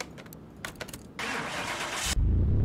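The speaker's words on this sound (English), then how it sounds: "will the car start?" A car engine in Car Mechanic Simulator 2021 cranks with a short starter whir, then catches and settles into a loud, steady idle, preceded by faint clicks and clatter, with no talking.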